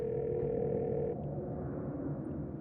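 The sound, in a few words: phone dial tone in Scarlet Hollow video game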